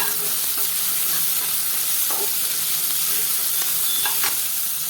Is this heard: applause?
no